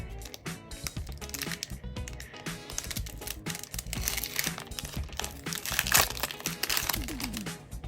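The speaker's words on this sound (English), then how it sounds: "today we're going to open an Astral Radiance packet" Wrapper of a Pokémon Astral Radiance booster pack being torn open, a dense run of close crinkling, crackling and tearing noises that peaks about three quarters of the way through.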